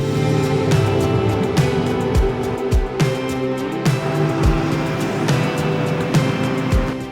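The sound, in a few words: restored 1992 Land Rover Defender 110 with LS3 V8 driving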